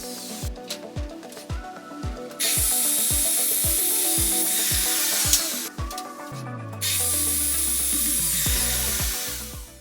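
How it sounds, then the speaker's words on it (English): An old oak gate post sanded with a power sander, with sharp rhythmic strokes of wood handling followed by loud, steady whirring bursts of the sander running over the wood, close by. "I gave it a quick sand."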